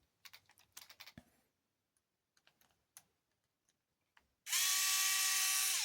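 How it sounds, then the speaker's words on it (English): Screws come out of the front shock tower of a Rlaarlo X12s 3S RC buggy: small clicks and ticks of a driver working, scattered and close, then a loud steady whir of a power screwdriver spinning. "So we're going to go ahead and take off all those screws"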